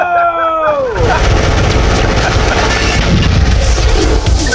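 A movie trailer erupts into dense, loud gunfire with booming blasts, a sustained roar of shots after a brief tonal lead-in.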